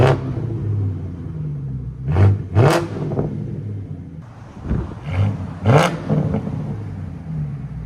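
A German V8 car engine from the 2000s idles loudly and close by, then is revved in two pairs of sharp, roaring bursts that each fall back to a rumbling idle.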